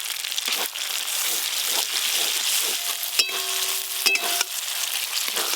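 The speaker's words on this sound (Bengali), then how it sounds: "ওপর দিয়ে মটরশুঁটিগুলো দিয়ে দেবো। দিয়ে একসঙ্গে ভালো করে একটু মিশিয়ে নেব।" Fried spice paste with green peas and green chillies sizzling in oil while it is stirred, a loud steady frying crackle broken by several sharp scrapes and clinks of the spoon against the pan.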